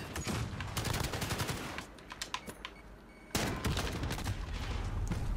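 Rapid bursts of gunfire in Call of Duty: Modern Warfare crackle in quick volleys, pausing briefly before another loud stretch of shots resumes.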